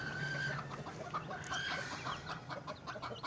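Chickens in a backyard coop under a pine tree clucking continuously, several birds overlapping at close range with a faint rustle and outdoor background.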